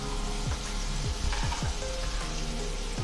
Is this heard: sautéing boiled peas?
yes